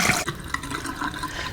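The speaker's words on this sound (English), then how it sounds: "just going to give it a stir like this and drain." Parboiled rice for jollof being drained, a loud rush of pouring water splashing steadily for a second and a half, close by with no talk.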